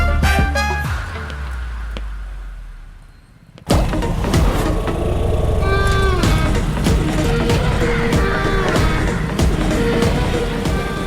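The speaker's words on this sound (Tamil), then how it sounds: "சார், விக்ரம் சார் வண்டி வருது சார்" A car approaches a roadside checkpoint. A low engine rumble builds, then a sudden loud burst of engine and road noise takes over and holds steady to the end.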